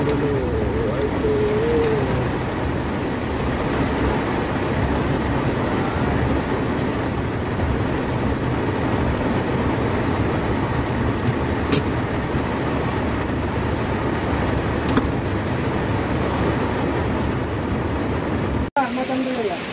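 A car driving along and pulling in to park, its steady engine and road rumble mixed with the drumming of heavy rain, loud and continuous, ending with a sudden thump, while people talk.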